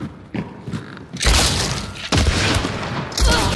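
Heavy gunshots in the Hunt: Showdown 1896 video game boom out as three big, close blasts, each followed by a long echoing tail, with quieter activity in the moments before the first.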